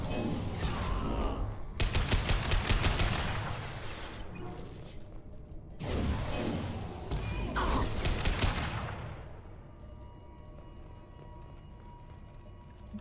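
Dense bursts of rapid gunfire from a Mass Effect 2 firefight, loud and close, coming in two clusters separated by a brief lull before fading into low background noise.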